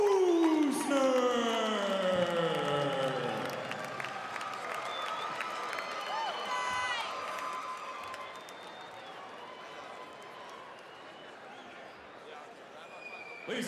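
A crowd at a women's fight event cheers and applauds after the bout ends, loud at first then settling into a long, fading wash of clapping and scattered shouts, with a voice speaking over it.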